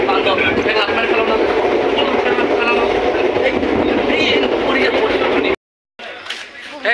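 A train pulling into a station gives a loud, continuous rolling rumble and wheel clatter with a general crowd din. It drops out abruptly near the end, leaving quieter ambience and some voices.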